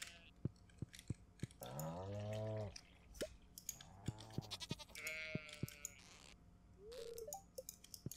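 Sheep bleat from the Stardew Valley farm game: several separate bleats at close range, mixed with short clicky game sound effects in between.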